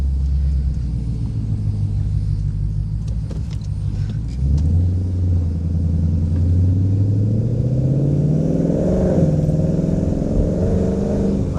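Ford Mustang GT V8 engine revving hard and accelerating on a wet road in rain, a loud continuous low roar that climbs steadily in pitch through a long full-throttle pull, heard up close with no talking.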